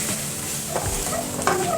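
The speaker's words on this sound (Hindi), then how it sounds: "लहसुन और हरी मिर्च का पेस्ट डाल देंगे और इसको भुनाई कर लेंगे" Garlic and green chili paste frying for chana chaat, a close, steady sizzle broken by a few stirring scrapes against the pan, with no voices.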